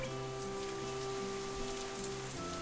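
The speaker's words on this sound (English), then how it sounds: "Rain is relentlessly pouring down from the great blue sky outside" Steady heavy rain pours down outside a window in a Katawa Shoujo scene, a dense continuous patter with no voices, layered over a soft sustained musical tone.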